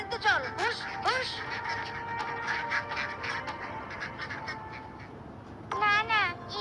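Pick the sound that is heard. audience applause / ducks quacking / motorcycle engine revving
ducks quacking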